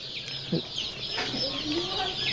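High, thin peeping of day-old native chicken chicks, continuous and busy, with a few lower clucks mixed in nearby.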